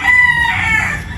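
Boston roundhead gamefowl crow loudly up close, a drawn-out call with a few clucks mixed in, filling the short moment with no talk over it.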